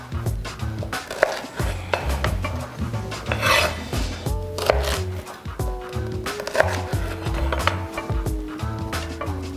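A knife slicing Brussels sprouts on a cutting board, with repeated close rasping cuts and knocks in an uneven rhythm, joined by brief louder clatters.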